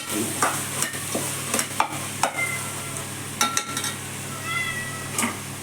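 Vegetables and masala for tomato rice sizzle and fry in oil in a pan, with a steady close crackle broken by a few sharp scraping stirs of a spoon.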